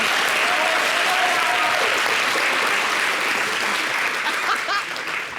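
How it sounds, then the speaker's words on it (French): Steady, dense clapping from a crowd, sustained throughout and tapering slightly near the end. "vous avez fini d'applaudir comme ça"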